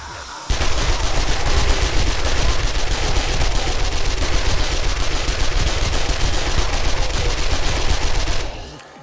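Sustained automatic gunfire rattles almost nonstop for about eight seconds during a zombie Horde Night in 7 Days to Die, loud and close with rapid overlapping shots and no talking.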